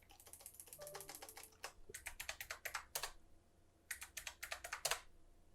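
A new root password being typed on a computer keyboard: quick, crisp keystrokes in two bursts split by a short pause, close and fairly quiet, with no voices.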